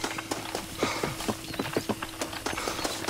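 In Red Dead Redemption, a horse's hooves clip-clop at a steady walking pace, with crisp, evenly spaced hoofbeats over a faint background hum.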